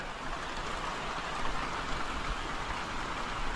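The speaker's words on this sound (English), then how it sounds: "Rain out there." Heavy rain falls outside on a farm, a dense, steady hiss of drops on surfaces that continues unbroken and fairly loud throughout.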